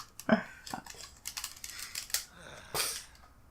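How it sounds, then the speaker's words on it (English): A computer keyboard clatters as it is dropped during a gaming session, giving a series of sharp plastic knocks and rattles at close range. "I also dropped my keyboard"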